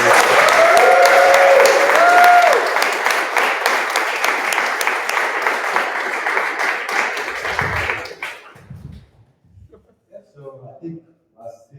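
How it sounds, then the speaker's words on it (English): An audience at a data science bootcamp demo day in Lisbon breaks into loud, sustained applause and cheering, which thins out and fades to near silence after about eight seconds, leaving only faint stray sounds. "round of applause"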